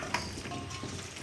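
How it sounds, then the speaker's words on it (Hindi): Beef paya fries in a pot, a dense continuous sizzle with a brief clank of stirring near the start, close and steady. "10 से 15 मिनट तक इसको मैं भूनूंगा अच्छी तरीके से।"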